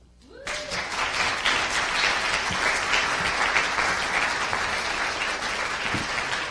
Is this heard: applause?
yes